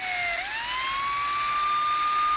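A vehicle siren wails continuously on a fast ride at around 150 speed, its tone dipping and then rising into a long, steady high whine that stays loud throughout, with no talking.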